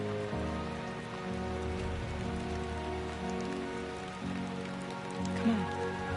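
Steady, quiet rain falls in Death Stranding 2, a soft continuous patter heard over sustained low tones.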